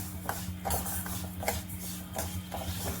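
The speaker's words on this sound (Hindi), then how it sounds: "कंटिन्यू हमें चलाते हुए दलिया को भूंज लेना है" Daliya (broken wheat) being stirred and roasted in ghee in a pan, with a steady, close rhythm of spoon scrapes and light metallic clinks over a constant low hum.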